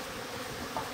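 Honeybees hum inside a hive after its slide bottom board is opened, a dense, steady buzzing drone heard up close without any talk.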